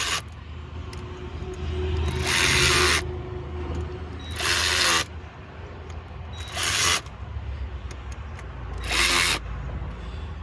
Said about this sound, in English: We're going to work on getting this fuel rail seated